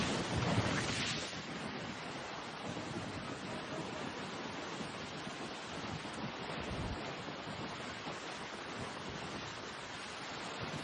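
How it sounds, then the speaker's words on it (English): Huge waves several meters high pound the Istanbul shoreline and a pier in strong southerly winds, making a loud, continuous roar of surf and gusting wind with no voices. "Along the Besiktas coast, waves several meters high crashed into the pier, flooding the road where vehicles passed."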